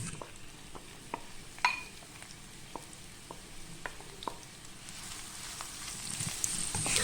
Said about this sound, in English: we can start sauteing our diced Bombay onions, which I've diced into 5 mm cubes.